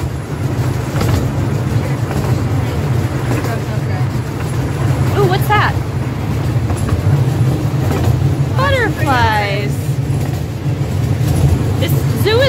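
Zoo train rumbling along with a steady low drone and faint clatter while riders chatter in the packed car nearby, and a voice rises briefly above the constant noise.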